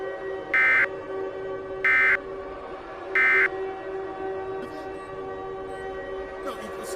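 Rapid electronic beeping from an emergency alert broadcast comes in three loud, evenly spaced bursts, followed by fainter tones over a steady background hum.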